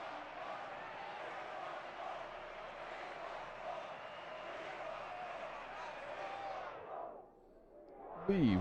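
Crowd cheering and roaring at a Rocket League RLCS 2v2 esports match, a dense sustained wash of voices that swells for several seconds and then cuts out abruptly near the end.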